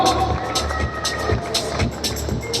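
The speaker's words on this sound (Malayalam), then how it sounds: "ഒരു നല്ല കയ്യടി കൊടുക്കാം എല്ലാവർക്കും ഒരുമിച്ച്." Audience at a Malayalam film audio launch in Kochi for JSK, featuring Suresh Gopi, with dense, steady crowd noise that sounds like applause and cheering. It continues throughout with rhythmic bursts, and voices run through it.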